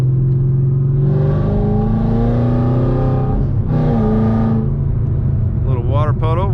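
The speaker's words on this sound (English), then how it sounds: "we have to lift our voices up a little bit just because the sound of the engine" Engine of a 2018 Yenko Camaro drones loudly and steadily from inside the cabin while driving, with the pitch shifting as it pulls, under continuous talk from the occupants.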